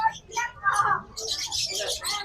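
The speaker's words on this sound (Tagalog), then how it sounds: "ang dami niyan dalang ibon" Small cage birds chirp and tweet at a busy pet market in the Philippines, short bright calls scattered over someone talking, with a denser burst of chirping near the end.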